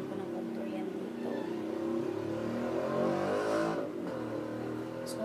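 A motor tricycle passes outside, its engine drone swelling to a peak and then easing away, heard beneath a nearby speaking voice indoors.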